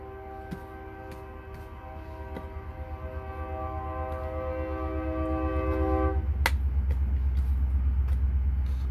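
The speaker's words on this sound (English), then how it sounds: "here comes another train" A train passes, first sounding a long multi-tone horn, then a deep rumbling roll that grows louder and nearer as it goes by.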